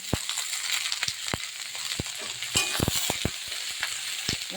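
Turmeric and salt frying in hot oil in a pan while making a mixed vegetable curry: a steady, crackling sizzle, near and moderately loud, broken by sharp clicks and scrapes of stirring.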